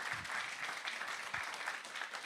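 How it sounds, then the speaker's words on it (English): Steady applause from a jazz concert audience fills the clip, dense and even, with a couple of louder claps standing out. "how about another round of applause for that wonderful piece?"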